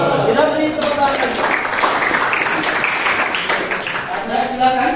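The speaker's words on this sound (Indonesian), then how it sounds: "kita beri tepuk tangan" Students in a classroom role-playing lesson clap together in steady, lively applause that fills the room, while a voice talks over the start and end.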